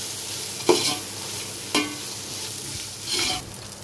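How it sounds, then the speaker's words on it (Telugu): A spoon or spatula stirs spices into Bagara rice in a pan, making three separate scraping strokes against the pan over a faint fry, close by with no voices. "వేసి కలుపుకోవాలి బాగా"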